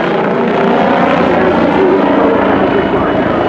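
A loud, steady aircraft engine roar with rotor throb from a German-built helicopter flying a freestyle display at the Cosford Air Show, continuous throughout without letup.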